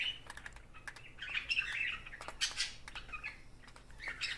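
Coturnix quail chirp in a series of short, high peeps and trills, some overlapping, with faint tapping or rustling underneath and no voices.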